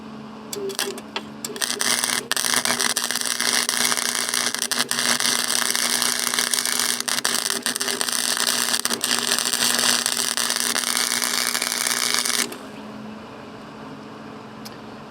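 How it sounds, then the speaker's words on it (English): Metal welded for a trail camera box, partly on a rusty section: a loud, steady crackling buzz runs for about ten seconds with small breaks, then cuts off to quieter background noise. "I'm gonna see if I can do a weld."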